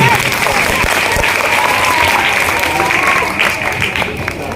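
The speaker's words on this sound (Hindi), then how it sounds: "जोरदार ताली होनी चाहिए हमारे सर के लिए।" A school audience at a Republic Day event gives sustained loud applause, dense clapping holding steady throughout with a faint tonal hum behind it and crowd noise under the claps.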